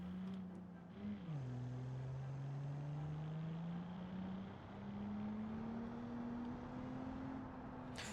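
Engine of a light, roughly 124-horsepower sporty car in the Automation video game, droning steadily through a test drive with a brief dip as it shifts, then rising slowly in pitch, loud and continuous with no talk.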